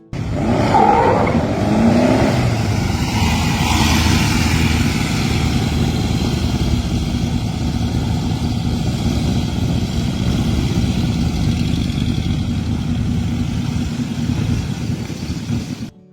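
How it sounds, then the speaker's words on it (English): An air-cooled Volkswagen-powered sandrail buggy engine drones loud and steady at close range, with a rising rev near the start, then a sustained rough, buzzing idle or cruise throughout. "This Volkswagen-powered sandrail buggy is a purpose-built off-road machine assembled under prior ownership"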